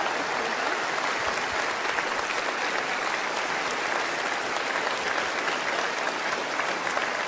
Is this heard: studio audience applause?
yes